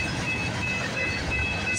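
A CPKC freight train passes at Bronte Street, Milepost 33 on the Galt Subdivision, at midnight: a quiet, continuous low rumble with a thin steady whine over it, heard from a distance.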